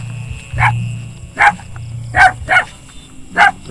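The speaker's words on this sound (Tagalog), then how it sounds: "may aso" A dog barks four separate times at night outdoors, sharp and fairly loud, spaced about a second apart over a steady low hum.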